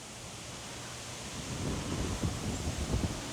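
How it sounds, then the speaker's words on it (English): Steady broadband wind noise rushing over the microphone outdoors at a home in The Villages, Florida, growing stronger with low rumbling gusts toward the end. "It's a little windy out."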